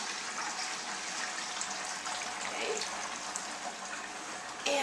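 Steady broadband trickling and splashing of cheese whey draining through cheesecloth in a strainer, continuous and fairly close, with a faint clunk at the end.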